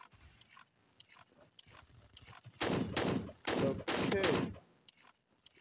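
Video game gunshots burst out in a few heavy, loud blasts clustered mid-stretch, framed by quieter scattered game noise before and after.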